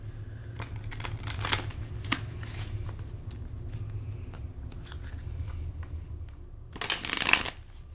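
A Hoodoo Tarot deck is shuffled, soft papery riffling throughout that ends in a louder burst of cards near the end, close and faint with no speech.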